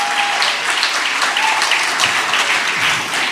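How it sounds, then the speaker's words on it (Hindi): A crowd at a poetry gathering gives loud, sustained applause to welcome the poet Maishar Afridi, close and continuous with no voices. "जोरदार तालियों से इस्तकबाल कीजिए साहब।"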